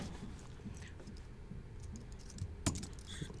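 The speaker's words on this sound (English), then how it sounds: "we are going to type in the name of our team" Quiet, steady typing on a computer keyboard while a team name is entered, soft overlapping key clicks running throughout with one sharper, louder keystroke near the end, no voices.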